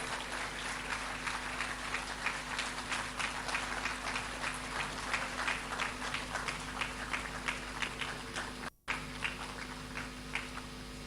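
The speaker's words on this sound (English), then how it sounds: "let's welcome him with a round of applause" Sustained round of audience applause at a Ghanaian programme matriculation ceremony welcoming the Minister for Food and Agriculture, steady dense clapping throughout, with a brief dropout near the end.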